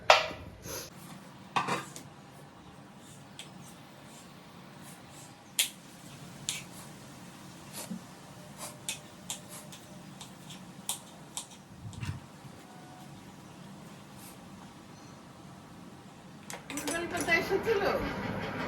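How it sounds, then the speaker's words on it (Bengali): A knife cutting a tomato on a board for Maggi noodles in a home kitchen: scattered soft taps and clicks spread out over time, faint, with occasional clatter nearby. "তো টমেটোটা কেটে ফেলি, তাহলে ঝটাপট হয়ে যাবে বানানো"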